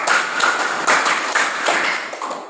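Students in a classroom clap as a group in two quick runs of claps, sharp and close with a steady rhythm and slight unevenness between hands, with no speech.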